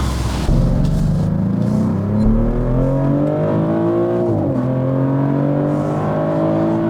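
Steady engine hum from inside a 2025 Maserati GranTurismo, pitch rising gradually as it revs and accelerates, with a brief dip midway before climbing again; no talking.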